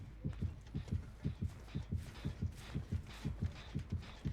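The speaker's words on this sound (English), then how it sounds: "Right now it's only 1 heartbeat" A single steady heartbeat from the Dead by Daylight killer-proximity cue thumps in a regular, even pulse of low double beats, about three per second, with faint game ambience behind it.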